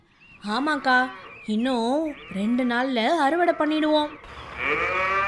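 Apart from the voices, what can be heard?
cow lowing in the cattle shed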